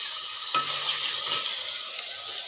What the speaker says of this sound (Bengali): মাছ ভাজাটা একটু উল্টে নিই